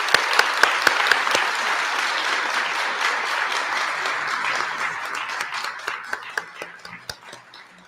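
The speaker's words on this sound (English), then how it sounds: "Please join me in a big round of applause." An audience at an annual meeting applauds award recipients, a few distinct early claps swelling into full, dense applause that thins out into scattered claps at the end.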